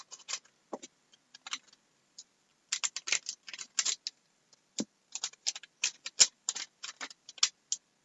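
Crinkly plastic wrapping being torn open on a 2008 Upper Deck Series 2 rack pack of baseball cards, heard as close, irregular crackles and snaps with short pauses, no voices.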